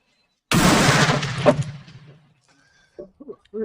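A single loud, close shot from a Werndl 1867/77 rifle, a sharp blast decaying into a long rumbling echo outdoors, followed by a few brief sounds of voices.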